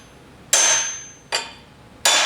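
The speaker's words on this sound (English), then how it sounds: "You do have to hit it with a hammer to get the molecules to move." Three sharp metallic hammer-on-chisel blows strike an MGB crankshaft in a workshop, each a loud ringing crack that decays over the following moment, spaced unevenly about a second apart with no talk.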